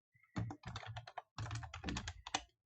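Quick bursts of keystrokes on a computer keyboard while data is entered into an Excel spreadsheet. Two short runs of close, crisp clicking are split by a brief pause.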